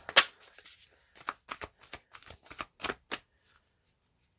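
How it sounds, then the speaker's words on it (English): Tarot cards are broken and shuffled by hand in a quiet room, a quick series of crisp riffles and soft slaps in irregular bursts, close and clear with no talk. "we'll kind of do a few breaks of the cards, a little bit of a shuffle"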